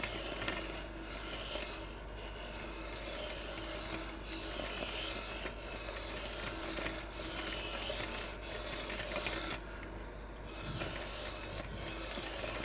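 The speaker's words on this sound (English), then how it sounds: "this spindle roughing gouge is actually really good at that" A spindle roughing gouge hogs material off a wooden handle blank spinning fast on a lathe, giving a continuous, close, steady rasping scrape that runs the whole time with no voices.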